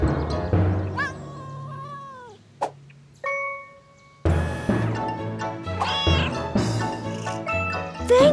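A cartoon kitten stuck up a tree meows repeatedly, with several rising and falling cries at close range over a busy animated soundtrack, broken by a brief bell-like ding and a short sustained tone before the meowing resumes.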